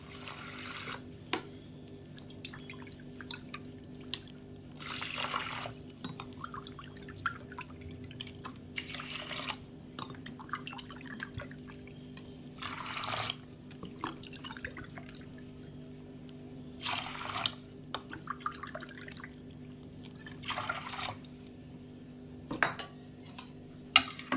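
Six cups of water poured cup by cup onto rice for a microwave vegetable cheese fried rice, several short separate pouring splashes with quiet clinks of dishes between them, no talking.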